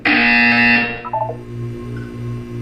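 A loud, harsh buzzer from the video game Portal blares for under a second, then cuts off into a fading electronic hum and faint pulsing tones.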